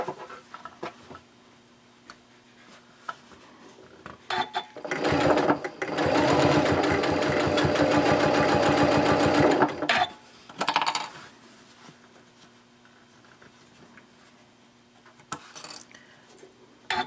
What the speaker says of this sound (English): so I will stop with the needle down, the foot is up